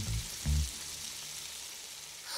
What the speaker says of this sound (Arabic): ظهور الفقاعات يعني أن الخليط قيد طاهية